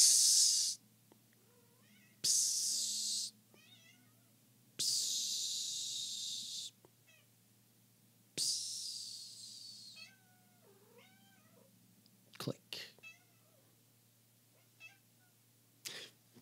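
A house cat meows several times in short, separate calls, close by and fairly loud, with quiet gaps and a few soft snorts or breaths between them.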